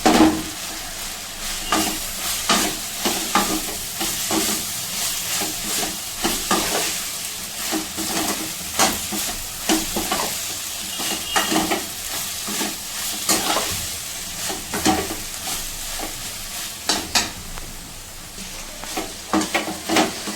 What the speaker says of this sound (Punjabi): ਹੁਣ ਅਸੀਂ ਪਾਵਾਂਗੇ ਸੋਇਆਬੀਨ ਇਹਨੂੰ ਵੀ ਅਸੀਂ ਚੰਗੀ ਤਰ੍ਹਾਂ ਭੁੰਨਾਂਗੇ